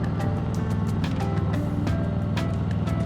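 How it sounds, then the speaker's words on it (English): A 2021 Harley-Davidson Heritage Softail Classic 114 being ridden, its engine giving a steady loud low rumble mixed with wind noise, with no break over the few seconds. "Enjoy this ride on my 2021 Harley Davidson Heritage Softail Classic 114"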